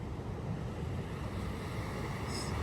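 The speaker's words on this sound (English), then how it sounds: "check out these waves. They are coming in." Ocean waves roll in against a rocky California coastline, a steady, loud wash of surf with constant wind buffeting the microphone throughout.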